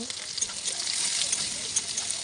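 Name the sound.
onion, green chili and five-spice frying and being stirred in oil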